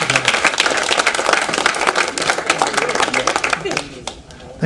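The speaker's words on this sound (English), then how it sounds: "let's give our guests a round of applause" A crowd claps in a dense burst of applause that carries on for several seconds, then tapers off near the end.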